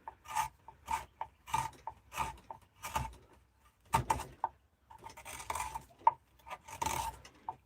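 A gouge carves out a wooden bowl in a run of short, rasping scrapes, each stroke a quick, close scratch with brief pauses between cuts.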